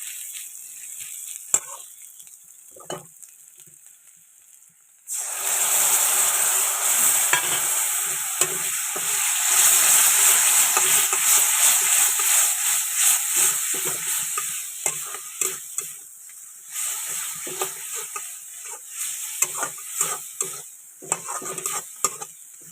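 Onions and spices sizzle in a pan as they are stirred and browned, a quiet start giving way at about five seconds to a steady, bright frying hiss with scraping spatula strokes and occasional clinks of utensils, no voices present.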